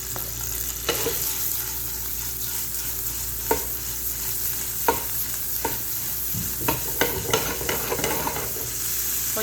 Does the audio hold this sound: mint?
yes